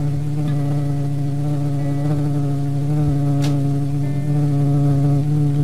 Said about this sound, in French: Ou bien un bourdonnement plus épais, plus grave